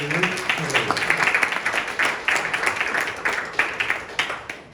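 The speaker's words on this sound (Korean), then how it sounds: "큰 박수로 환영해 주시기를 바라겠습니다" An audience at a lecture event gives a warm round of applause to welcome a speaker, steady mixed clapping with individual claps standing out, with a voice talking over it at the start.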